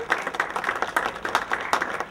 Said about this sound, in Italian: Facciamolo forte l'applauso